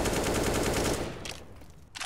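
Rapid automatic gunfire from a Counter-Strike esports match between Eternal Fire and SNG, a dense continuous burst for about a second that fades into scattered, quieter shots and a final crack.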